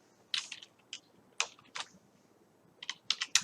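Quiet, close keyboard typing: scattered clicky keystrokes in short irregular bursts with brief pauses between them.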